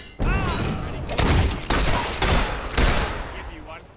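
Gunfire in the Fable III video game, with repeated bursts of shots and booms arriving in several heavy volleys amid a noisy battle, loud and close throughout.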